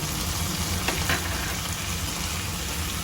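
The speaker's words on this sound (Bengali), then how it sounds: "এগুলো সমস্ত একসঙ্গে ভালো করে ভেজে নিতে" Ginger and tomato frying together in a pan, a steady close sizzle with soft crackling and a brief stir sound, no talk.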